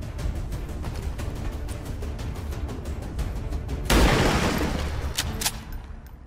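Gunfire from a soldier shooting an enemy in the video game XCOM 2 (Blacksite mission), a burst of loud, sharp shots that cut in suddenly after a low rumbling game ambience, fading over the final seconds.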